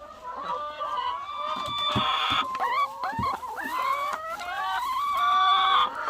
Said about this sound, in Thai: ไก่คอกนี้มีแม่ไก่อยู่ร้อยยี่สิบตัว